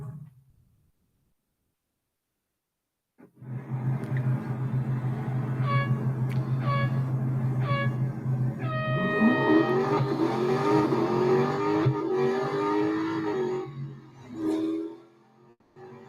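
A race car in the mobile racing game Real Racing 3 starts after a silent pause, then its engine revs hard and rises through the gears, with tire squeal and a loud, continuous drone that briefly fades near the end.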